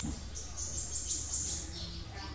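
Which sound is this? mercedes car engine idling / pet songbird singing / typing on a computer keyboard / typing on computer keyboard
pet songbird singing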